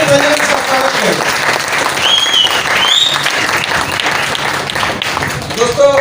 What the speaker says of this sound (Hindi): जोरदार तालियों के साथ, जोरदार तालियों के साथ स्वागत करें।